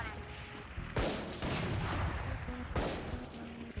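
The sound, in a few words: gunshots in Valorant video game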